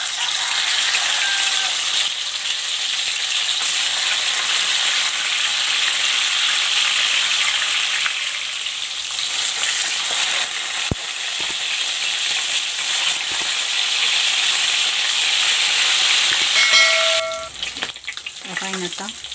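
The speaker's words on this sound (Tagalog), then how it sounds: "Ipiprito ko muna itong isda. Ito ay binabad ko na sa asin at paminta." Fish soaked in salt and pepper fries in hot oil, a loud, steady crackling sizzle running continuously, with a brief clatter of handling near the end.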